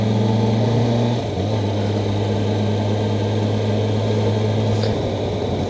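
A motorbike engine idles steadily while being parked near a beach in Japan, a loud close drone that shifts down in pitch once early on and then holds an even hum, with no talking.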